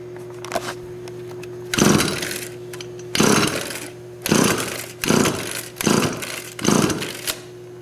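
A Stihl string trimmer gets repeated pull-start attempts, six loud rasping cord yanks spaced about a second apart, each a short grinding burst over a steady low hum, with no engine catching.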